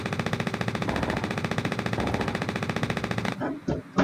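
Gunfire in the Fortnite video game: a long, rapid, evenly spaced burst of automatic shots rattles on loudly for about three seconds, then breaks off abruptly into a few scattered noises.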